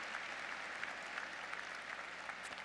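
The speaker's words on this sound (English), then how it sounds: "Let's give him a round of applause." A room full of people clapping steadily at a university commencement, dense and even, somewhat distant and soft, continuing throughout.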